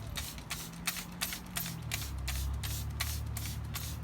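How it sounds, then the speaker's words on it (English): Spray bottle of water misting seeds, a rapid run of about a dozen quick, hissing squirts close by, evenly spaced and fairly quiet. "I have a little bottle, a spray bottle of water, and I'm just going to spray these seeds like so."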